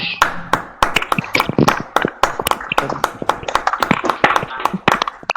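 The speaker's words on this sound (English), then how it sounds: "let us give Mr. Francis a round of applause as he takes the floor" Webinar participants clapping over unmuted microphones, scattered sharp individual claps overlapping irregularly, close and uneven, with voices occasionally mixed in.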